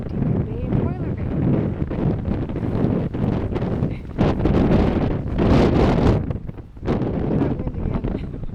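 Strong wind buffets the microphone on sea cliffs at Depoe Bay and Boiler Bay on the Oregon coast, a loud, steady roar with gusting surges and brief dips throughout.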